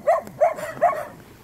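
A small street dog gives three quick barks close by, evenly spaced, then falls quiet.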